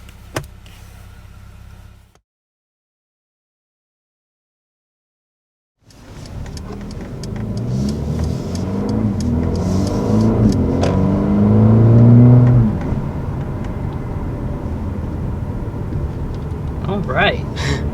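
A 2020 Mercedes-AMG CLA 35 comes onto the throttle after a brief silence, its engine note climbing steadily and peaking before easing off, heard from inside the car with someone talking over it.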